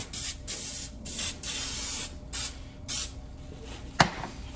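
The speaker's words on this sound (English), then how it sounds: "I'm going to lightly spray that with some Pam with flour." Several short bursts of Pam cooking spray with flour hiss onto a cookie sheet in quick succession, close by, separated by brief pauses, ending with a small clunk.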